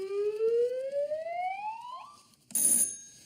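Quiz show buzzer on a comedy panel game: a loud rising electronic siren-like tone sweeps upward for about two seconds. A sharper, brighter burst of noise follows after a brief gap.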